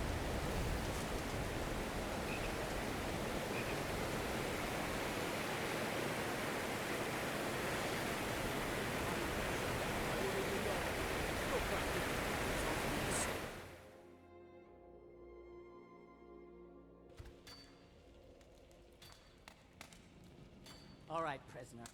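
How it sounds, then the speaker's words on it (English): Strong, loud waterfalls in the game Skyrim roar as a dense, steady rush for about thirteen seconds, then cut off abruptly, leaving quiet ambience with a few soft clicks and small sounds. "like those waterfalls again. Really, really strong, loud waterfalls."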